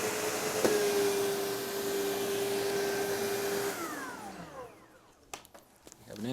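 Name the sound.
SEBO Automatic X4 upright vacuum cleaner running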